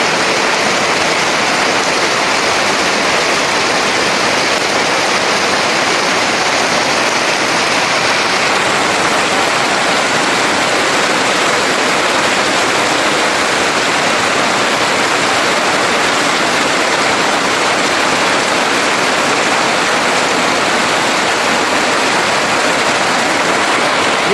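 Heavy rain pours steadily during a storm, a dense, unbroken roar of water that holds its level for the whole stretch, with no voices.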